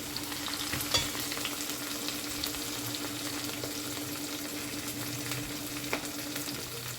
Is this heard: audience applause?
no